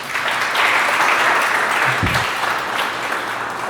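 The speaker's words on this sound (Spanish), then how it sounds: "Un aplauso a Dios por sus vidas." A church congregation breaks into loud, sustained applause during a worship service, a dense wash of clapping that holds steady for several seconds with no speech over it.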